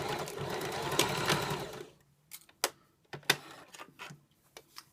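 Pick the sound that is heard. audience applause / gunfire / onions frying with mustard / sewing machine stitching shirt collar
sewing machine stitching shirt collar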